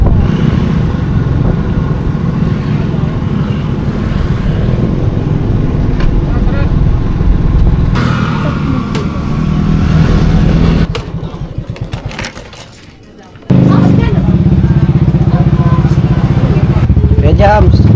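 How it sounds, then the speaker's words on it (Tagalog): Many motorcycles at a riverside and seaside campsite, a loud, steady engine rumble close by that briefly dips and muffles before returning at full strength. "Daming ano, daming motor na meron dito."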